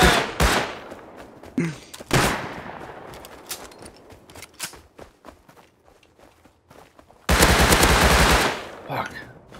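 Silenced gunfire in Rust, bursts of close rapid shots with scattered footsteps and thumps between them, ending in a long sustained loud volley.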